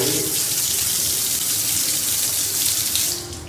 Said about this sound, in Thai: นี่จะแรงดันน้ำที่ออกมา